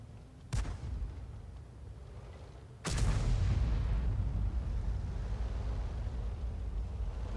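A GW Panther self-propelled artillery gun in a tank video game fires shells at tanks: one sharp boom, then a louder blast about two seconds later that trails into a sustained rumbling roar.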